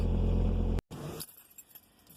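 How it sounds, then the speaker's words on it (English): A ring of keys jangles in short metallic clinks as it is grabbed. It starts after a loud steady rumble that cuts off abruptly, and fades into quieter scattered rattles. "I just had to go grab my keys and stuff"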